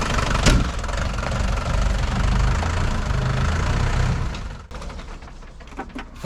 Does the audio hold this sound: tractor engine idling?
yes